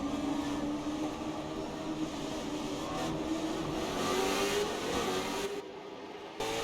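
Race car engines drone and rev together, a loud sustained roar whose pitch climbs gradually before dropping off abruptly near the end, with no voices.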